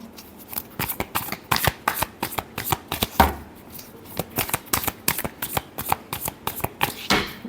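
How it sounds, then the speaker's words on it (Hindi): Tarot cards shuffled by hand in a steady run of quick, crisp riffling flicks, close and fairly loud, with no talk over them. "last shuffle"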